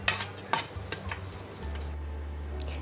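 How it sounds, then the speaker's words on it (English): A spoon stirs washed poha with salt and sugar in a bowl, giving a few light scraping clinks close by over a low steady kitchen hum. "Mix this well and keep it aside."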